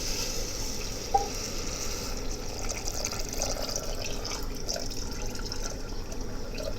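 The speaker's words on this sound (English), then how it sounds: "I'm gonna add up the water." Chicken cooking broth is poured from a container into a pot for chicken machboose, a steady continuous splashing stream of liquid at close range with no voices.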